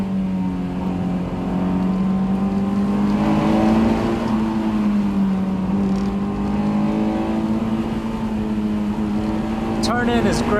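A Honda S2000's engine drones steadily at high revs, its pitch sliding up and down slightly under a constant loud roar heard from inside the car.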